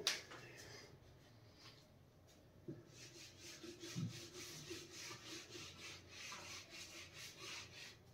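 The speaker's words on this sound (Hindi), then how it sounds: "Now I am going to rub the board." A classroom board is rubbed clean with an eraser, giving soft, repeated scraping strokes in a quiet room, faint and rhythmic throughout.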